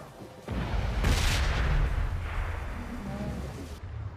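Gunfire in a battle-royale style video game: a loud, close burst of shots kicks in and rings out, then trails into a sustained rumbling echo, with no talk over it.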